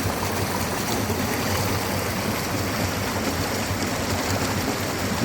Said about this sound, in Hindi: एक नाला ऊपर से आता है, पहाड़ों से पानी है जो बिल्कुल साफ पानी।